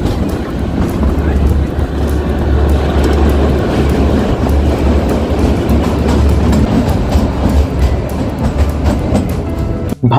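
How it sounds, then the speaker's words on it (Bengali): The Kalka to Shimla narrow gauge toy train rolls steadily along with a continuous low rumble and rhythmic wheel clatter, loud and close throughout, ending in a brief sharp drop. "ভাবা যায় সেই ব্রিটিশ আমল থেকে 120 বছর ধরে কালকা two Shimla toy train service চালু হয়েছে"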